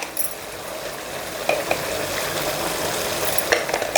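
Chicken pieces frying in oil with turmeric stirred in, giving a steady close sizzle with a few soft clinks and scrapes from stirring; no one speaks.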